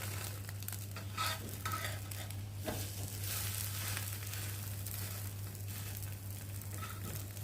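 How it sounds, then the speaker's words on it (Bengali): An egg fries in a pan and is flipped with a spatula, a low steady sizzle under occasional scraping and stirring sounds over a constant low hum, with no one talking. "তো আর একটু ভালো করে ভেজে নেবো এপিট ওপিট করে।"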